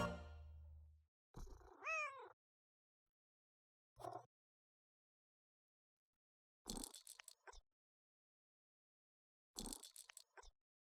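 A cat in a Nancy Drew video game purring in a brief low rumble, then giving a clear rising meow, followed by a few scattered short sounds separated by silence.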